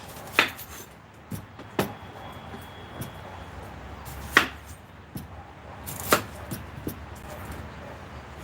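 A knife chops white onions on a cutting board, with a few sharp, separate knocks spaced out at an irregular rhythm over a quiet background.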